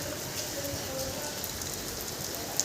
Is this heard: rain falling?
yes